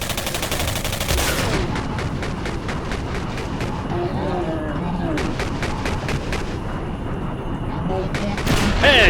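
Rapid gunfire from the video game Singularity, loud and sustained, with dense bursts of shots in quick succession and a heavy rumbling backdrop, under a voice talking over the action.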